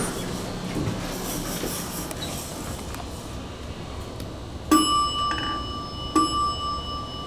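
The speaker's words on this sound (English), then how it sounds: "I'm gonna go outside and sample the chime." A vintage Dover traction elevator chime at Alamo Tower in San Antonio, Texas rings two clear dings a second or so apart over a steady rumbling hum of machinery, with no one speaking.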